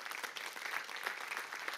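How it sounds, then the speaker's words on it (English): A church congregation gives steady applause to the speakers Terry and Sharon. The crowd clapping is faint and distant and stays even, without breaks, throughout the short stretch. "Let's give them a big round of applause."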